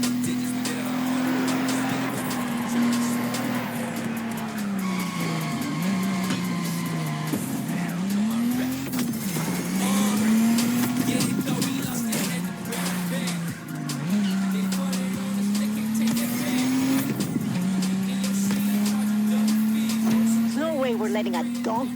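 A lowrider car races a Donk in The Crew Motorfest video game. The engine holds a steady loud drone that rises and falls with the throttle, with tyre squeals and skids along the way, and a voice talks over it.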